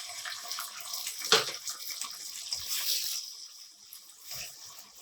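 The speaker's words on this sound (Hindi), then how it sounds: "अब हम इसमें 1 कप यखनी डाल देंगे।" Chicken yakhni stock poured onto browned onions in a pot for degi-style pulao, a soft, close liquid pour with a brief louder splash and a faint hiss around it.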